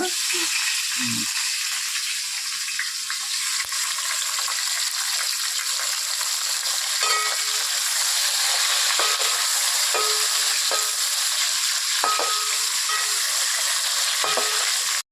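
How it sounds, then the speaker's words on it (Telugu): Biryani spices and green chilies fry in hot oil in a pan: a loud, steady sizzle and hiss that runs throughout, with a few faint clinks from stirring and no talking. "నూనె కాగింది కదా, ఇప్పుడు మనం ఈ బిర్యానీ దినుసులన్నీ వేసేసుకున్నాం. పచ్చిమిరకాయ,"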